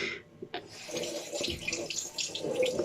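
Cold tap water runs steadily into a sink to wet a safety razor blade during a wet shave, a close, continuous splashing stream with no talking.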